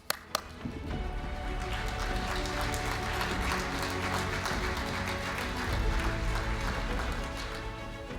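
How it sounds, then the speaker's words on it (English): A crowd applauds a keynote speaker at a political event with sustained clapping over background music, a couple of sharp knocks at the start, and the sound staying loud and even. "Please give him a round of applause"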